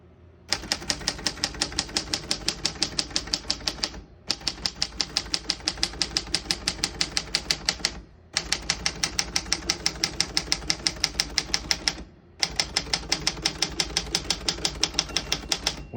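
A 1946 Remington desktop typewriter being typed on steadily, with dense rapid keystrokes in four long runs separated by brief pauses, each strike crisp and close with a slight mechanical clatter.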